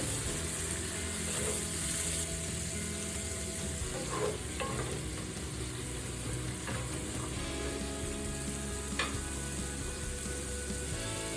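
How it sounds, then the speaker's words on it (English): Onions frying in a pot for a one-pot chicken and potato dish, a low steady sizzle with a few faint stirring knocks, quiet and even throughout with no talking. "So I'm just going to fry this until it's translucent."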